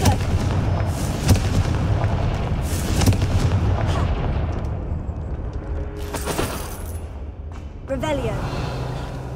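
A Confringo blast spell in Hogwarts Legacy booms out as a series of heavy, artillery-like explosions with rumbling low end and crackling debris, layered over busy game sound.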